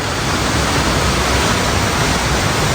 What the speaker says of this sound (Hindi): बहुत बढ़िया वाटरफॉल है। देखो कितनी हाइट से गिर रहा है